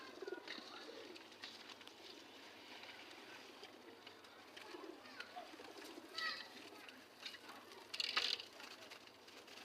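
Pigeons feeding on grain in a pigeon house, soft low cooing from a few birds with faint pecking and shuffling, quiet and close, with scattered brief noises over a hushed background.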